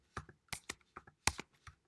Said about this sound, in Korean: 타이핑 안 된다.